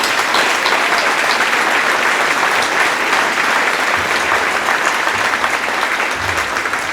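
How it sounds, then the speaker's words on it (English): Sustained crowd applause at a welcome-home celebration for a state champion high school football team, a dense steady clapping that fills the whole stretch without pause. "let's go a round of applause for Coach Fredenberg."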